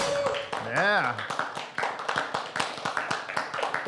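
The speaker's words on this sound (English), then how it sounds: "That applause sign working overtime today." Applause and scattered claps from an audience, with a rising-falling whistle or sound effect early on, over busy crowd noise.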